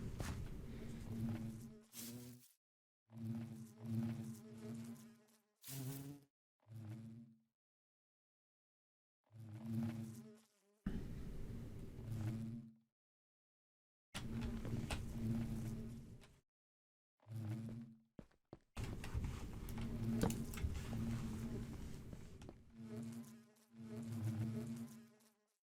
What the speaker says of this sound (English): I reckon these bees are bees that have been kicked out of the hive